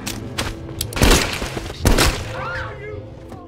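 Gunfire in a film action scene, two heavy booming shots about a second apart among smaller thuds and impacts, with a brief ringing sweep afterward.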